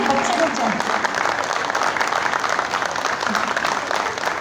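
Steady applause from an audience at a provincial office Independence Day celebration in Karachi, moderate and continuous clapping with faint voices mixed in.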